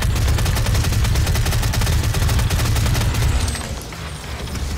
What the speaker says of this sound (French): Ah, mitrailleuse, ça peut être bien aussi.